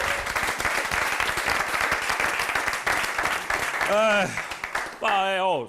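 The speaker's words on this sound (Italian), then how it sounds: "fai un bel applauso" Studio audience of a television show giving the technical crew a round of applause, dense and loud clapping that runs for about four seconds before voices take over, one rising in a drawn-out call.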